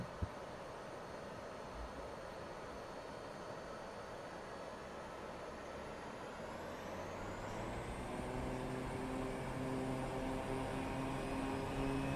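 A small propeller plane takes off in Microsoft Flight Simulator at Merrill Field, Anchorage, Alaska, its engine drone building steadily in loudness and pitch with a rising whine, with no talking.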